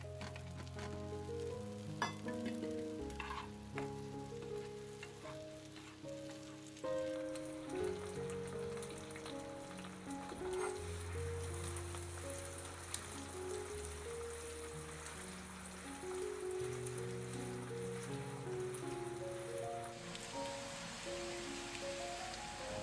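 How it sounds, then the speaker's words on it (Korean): Small whole potatoes rolled in melted butter in a preheated pan, sizzling steadily in a soft, continuous crackle with occasional faint clinks, no talking. "예열된 팬에 버터가 녹으면 감자를 살살 굴러줍니다."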